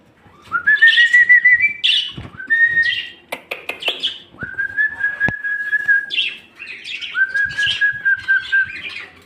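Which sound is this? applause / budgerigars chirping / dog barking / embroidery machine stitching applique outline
budgerigars chirping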